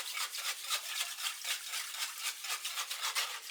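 A spoon is stirred steadily through bread and butter pickle mixture in a pot, making a rhythmic, brushy scraping that repeats in quick even strokes.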